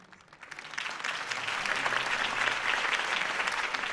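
A crowd in the video game Batman: The Telltale Series bursts into applause after a campaign speech; the clapping quickly swells and holds steady, dense and filling the space without any voices standing out.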